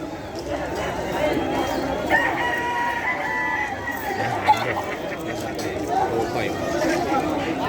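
White Kelso gamefowl roosters crow and cluck amid the chatter of a Malabon pet market, their calls rising over crowd noise as men bargain nearby.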